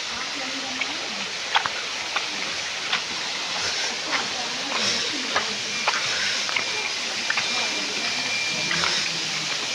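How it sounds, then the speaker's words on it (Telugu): A waterfall near the Ahobilam Lakshmi Narasimha temple rushes in a steady broadband roar, with scattered clicks and people talking under it. "ప్రహ్లాద బడి దగ్గర వాటర్ ఫాల్ అవబులం లక్ష్మీ నరసింహస్వామి దేవాలయం దగ్గర చూడండి"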